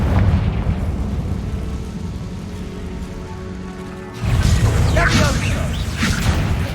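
A Confringo fire spell in the Hogwarts Legacy video game bursts into a loud, harsh explosion about two-thirds of the way through, following a low rumbling buildup of game ambience.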